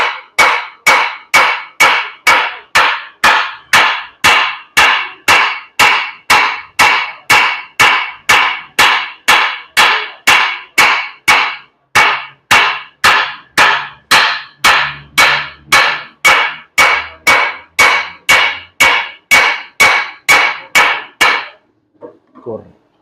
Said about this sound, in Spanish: Martillo para aliviar un poco la tensión.